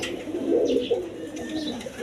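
Pigeons of a breed kept for egg-laying and breeding coo in soft, repeated throaty calls, moderately close. Several birds overlap in a steady murmuring chorus, and no one speaks.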